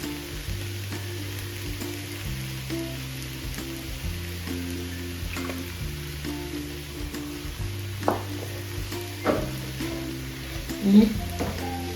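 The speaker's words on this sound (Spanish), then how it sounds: "vamos a poner en el fuego hasta que se nos cocinen todas las cebollas, el ají y el puerro" Onions, chili pepper and leek fry in olive oil in a pan with a steady, soft sizzle, a few stirring scrapes and clinks rising toward the end.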